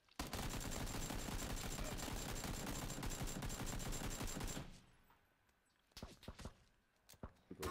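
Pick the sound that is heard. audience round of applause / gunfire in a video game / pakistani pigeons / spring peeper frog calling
gunfire in a video game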